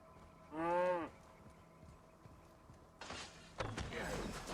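A cow lets out a single loud, close moo in the video game Assassin's Creed Valhalla, followed after a pause by clattering thumps and scuffling noise.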